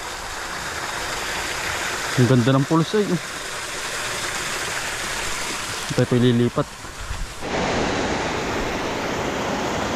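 Water rushes steadily down a stream at a riverside fishing spot where it drops over a ledge. The loud, constant wash fills the whole recording, and someone talks briefly twice over it.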